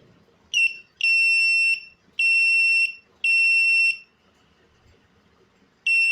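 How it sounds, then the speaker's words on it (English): A piezo buzzer sounds a shrill, steady electronic tone in four loud beeps of under a second each, separated by short silences, the last cut off at the end. "this kind of sound is produced with this piezo buzzer"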